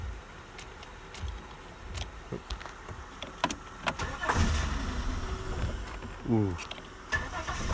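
A 1998 Holden Commodore Berlina VT engine cranks after a squirt of ether, with clicks and starter whirring, then a brief rough attempt to fire, and a voice reacts briefly.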